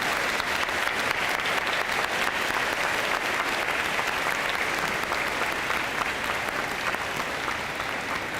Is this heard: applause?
yes